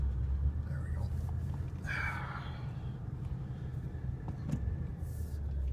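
A 1990 Oldsmobile Custom Cruiser engine, choke not set, runs with a steady low rumble throughout while someone talks briefly over it.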